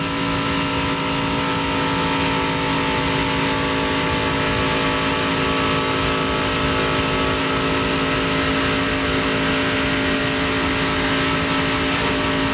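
A NASCAR Winston Cup stock car engine at Daytona drones at high RPM as it runs through the turns, a loud, steady onboard roar that holds for the whole stretch with no talk.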